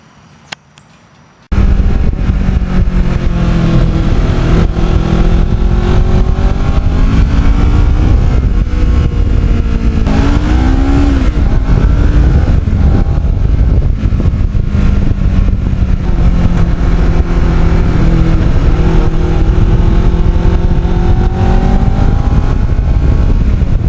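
A restored Kawasaki Ninja motorcycle rides along a shaded back road on a hot day. Its engine drones steadily and loudly throughout, with pitch rising and falling as it shifts and revs. A brief quiet moment comes first.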